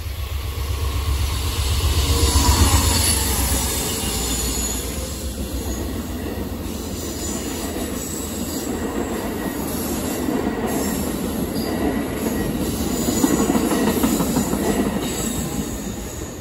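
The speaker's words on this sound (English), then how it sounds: "Amtrak 58, northbound city of New Orleans" The northbound Amtrak 58 City of New Orleans passenger train rolls past close by, a loud continuous roar of wheels and rail with steady rumble and squealing throughout.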